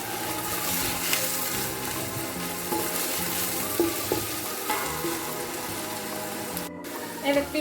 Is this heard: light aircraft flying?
no